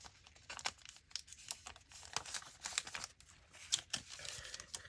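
Sheets of paper for a junk journal being handled and folded, with close, crisp crinkling and rustling sounds that come in irregular bursts and scrapes.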